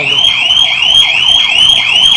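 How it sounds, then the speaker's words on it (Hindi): A home security alarm device sounds the instant it is opened, giving a loud, continuous electronic warble that sweeps up and down rapidly and repeatedly, close and alone. "जैसे ही खोलूंगा तेजी से अलार्म बजेगा"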